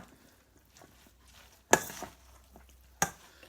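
Noodle and seaweed salad dressed with soy sauce is stirred in a bowl, with two distinct sharp knocks of a utensil against the dish among faint scraping, in an otherwise quiet room.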